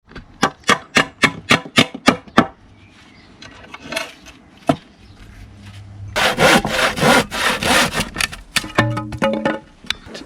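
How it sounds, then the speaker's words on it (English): Rhythmic hand saw strokes cutting through wood, a dozen quick rasping pulls, then a pause with scraping before a denser, louder burst of sawing. "get a piece of wood on my wood pile, do a little bit of sawing and drilling"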